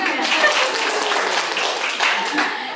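Audience of prospective brides and grooms applauding at a reproductive health session, with steady, moderately loud clapping throughout and voices mixed underneath.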